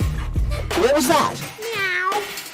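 A cow trapped in a junk pile lets out a drawn, wavering moo with a cat-like, whining pitch in the Deponia video game, loud and close over a low background rumble.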